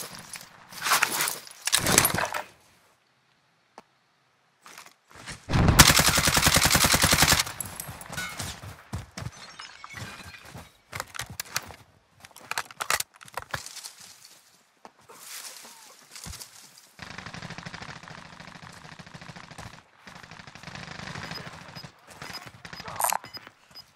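Gunfire in Call of Duty: Modern Warfare, with scattered bursts and single shots, one loud sustained volley near the middle, and quieter movement and clatter between, with a voice briefly speaking.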